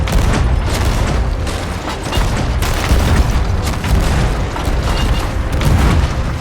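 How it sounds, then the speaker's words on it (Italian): Ship cannons fire during a naval fight in the pirate game Sea of Thieves, with dense, loud, repeated booms and rumbling blasts one after another. "Mi è passata una palla di cannone a 2 centimetri dalla testa."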